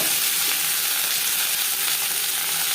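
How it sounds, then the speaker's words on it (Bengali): Cauliflower stalks sizzle in hot oil with panch phoron spice and a bay leaf, a dense, continuous frying hiss heard close up with no talking. "তেজপাতা পাঁচফোড়ন ভেজে নেওয়ার পর দিয়ে দেবো ফুলকপির ডাটা"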